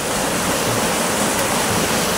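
A steady, loud rush of falling water from the Sumbelerang waterfall on Mount Papandayan, Garut, fills the air with dense, unbroken white noise, close and constant.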